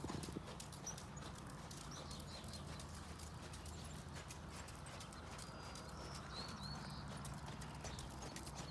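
A horse being ridden in an arena gives a steady, continuous clip-clop of hooves, fairly faint and even throughout over a soft background hiss, with no talking.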